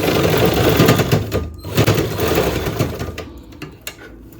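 A sewing machine stitches a blouse fitting seam, a fast whirring run that slows, pauses and gives a few short bursts near the end, close and loud.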